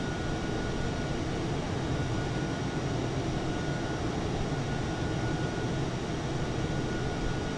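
Airliner cockpit during takeoff roll from Singapore Changi runway 3 in Flight Simulator 2004, a constant broadband engine roar and rumble held at an even level throughout, with no voices heard.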